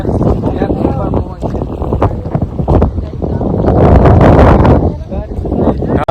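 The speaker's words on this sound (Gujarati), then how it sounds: "અવાજ નહીં આવે બહુ પવન છે" Strong wind buffets the microphone in heavy, continuous gusts on a hill trek at Governor Hill, Saputara, loud and roaring throughout, peaking in a surge near the end.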